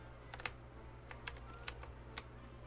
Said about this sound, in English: So maybe you're hearing all the clickety-clack of my arrow